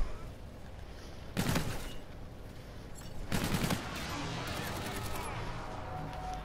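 In a first-person shooter game, an aircraft gun-run airstrike rips out two loud, short bursts of rapid gunfire a couple of seconds apart over a steady background roar of game sound.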